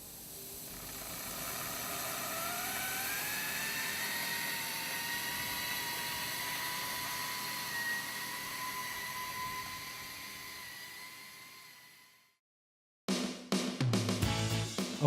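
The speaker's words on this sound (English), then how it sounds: "The coving machine features a semi-automated shot-creting head, which is energised by an oil-free compressor and fed mortar from an onboard reservoir." A pipeline coving machine's semi-automated shotcreting head, driven by an oil-free compressor and fed mortar from an onboard reservoir, gives a steady, strong hiss with a rising whine. It cuts off near the end, followed by brief clattering.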